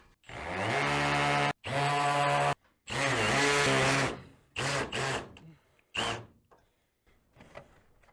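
A loud hammer drill runs in repeated bursts into a tough trailer roof, revving hard, cutting out and starting again, before going quiet at the end.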